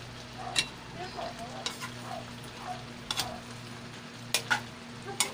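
Fried dried fish (daing) being stirred in a pan, with a steady low sizzle of frying under a series of intermittent scraping and clinking utensil strokes, close and moderately quiet, no talking.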